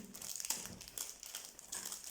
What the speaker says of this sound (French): à chaque fois, elle me fait des petites enveloppes comme ça.